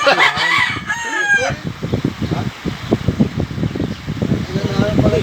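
A rooster crows loudly up close at the start, then chickens cluck in quick repeated bursts, with a fan-like hum underneath and a voice in the background.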